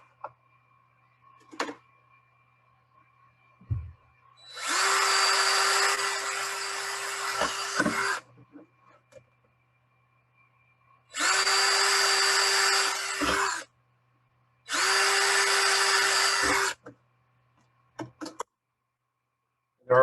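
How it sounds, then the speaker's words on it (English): A power drill boring holes through a paper printout template for controller standoff bolts, three bursts of steady whirring, the first longer and the next two shorter, separated by quiet pauses with faint clicks. "And I drill in on this printout."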